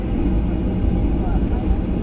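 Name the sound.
airplane taxiing after landing at Tokyo International Airport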